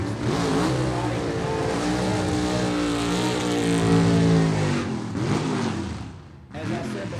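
A 1957 Pontiac gasser drag car at Gulfport Dragway roars loudly and steadily in the right lane, its engine note rising and falling with revs under an announcer's voice, briefly dipping near the end.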